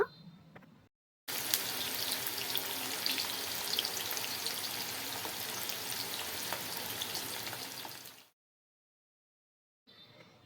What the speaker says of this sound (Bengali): এভাবে একে একে সবগুলো আমি কড়াইতে দিয়ে নিয়েছি ভাজার জন্য